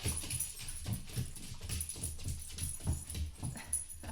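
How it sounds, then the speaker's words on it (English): Dogs whimper and yip softly while waiting for fish-smelling treats, producing a stream of faint, restless whines with small shuffling sounds in a quiet room. "we'll give the dogs their treats"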